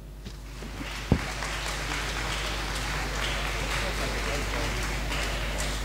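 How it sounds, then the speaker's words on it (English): A school morning-assembly audience applauds the class teachers, a steady broadband clatter of many hands that runs throughout after a brief thump near the start. "Please give them a round applause."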